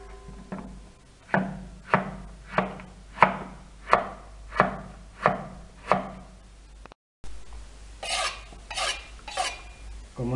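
A knife slicing radish into thin rounds on a board, about ten evenly spaced crisp cuts close by and alone, followed by a brief burst of quicker scraping cuts.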